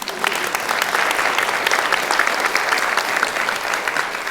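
A conference audience at a women-in-leadership event claps in a steady, full burst of applause for a few seconds, with no talking over it.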